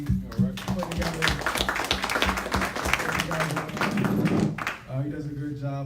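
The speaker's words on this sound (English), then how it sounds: "Let's all give a nice hand clap for Ali." Audience handclapping at a community gathering: a brisk burst of claps that rises and then fades, with a voice speaking over the start and end.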